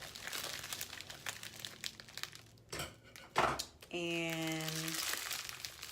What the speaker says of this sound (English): So I have my scissors here. I'm cutting,